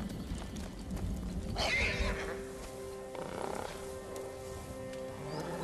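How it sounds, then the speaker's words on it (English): A herd of horses thundering past in a video game (Ghost of Tsushima) with pounding hooves and a whinny, dense and continuous, mixed with rumbling game ambience. "That's a lot of horses."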